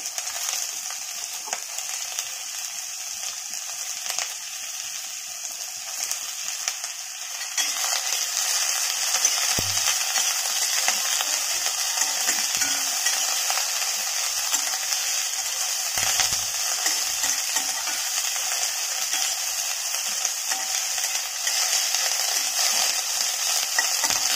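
Onion, ginger, green chilli and curry leaves frying as a masala in a pan, with a steady bright sizzle throughout and occasional stirring scrapes, close and continuous without talk.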